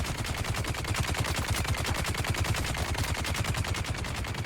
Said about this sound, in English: This guy could just shoot me all day.